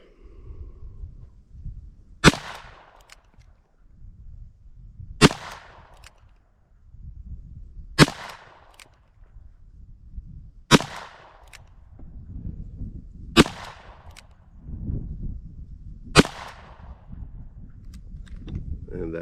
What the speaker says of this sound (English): And now the Model 10-10, or 10-10, 6 single action shots.